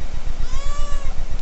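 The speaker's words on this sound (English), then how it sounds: "Kitty, she's doing kitty stuff." A three-year-old house cat gives one loud, close, drawn-out meow with a rising and falling pitch, over low background rumble.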